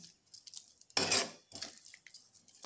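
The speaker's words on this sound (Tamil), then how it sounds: "இப்போ வந்து நல்லா கிளறி விட்டுருங்க" A spoon stirring saffron pongal rice with melted rock sugar in a pot, quiet clinks and scrapes broken by a few louder bursts of metal against metal.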